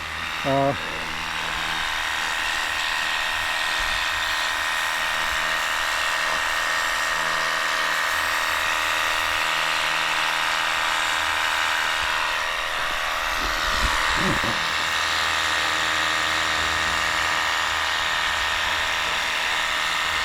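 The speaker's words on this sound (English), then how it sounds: "Now this isn't as strong as a regular pressure washer, or full-blown pressure washer, but it's still pretty good for 20 volts." A Worx WG629.2 20-volt portable pressure washer blasts debris out of gaps, a continuous loud spraying hiss with a motor whine running throughout, with a brief clatter partway through.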